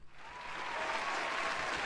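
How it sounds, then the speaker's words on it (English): Steady applause fills a short stretch at a house remodel gathering, a dense, even wash of clapping hands that holds at a moderate level throughout with no voices over it. "How about a round of applause?"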